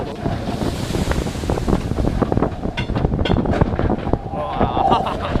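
Water crashing and splashing as a bobsled car passes through the waterfall on the Matterhorn ride at Disneyland, a steady roaring wash with wind rush and rattling car noise, while riders talk and exclaim over it.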